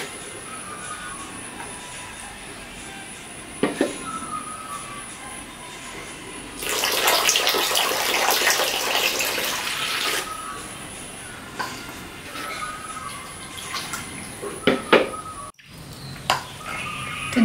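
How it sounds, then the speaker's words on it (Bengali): Two cups of water are poured into strained mango pulp while making a homemade mango Frooti drink, a loud, splashy pour of about three and a half seconds in the middle of a quiet kitchen, with no talking. "এবার আমি এখানে দিয়ে দেবো 2 কাপ জল।"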